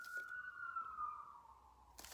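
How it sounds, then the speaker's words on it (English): A single faint siren wail drifts past in the distance, one falling tone that fades away over about two seconds. "if you heard that siren"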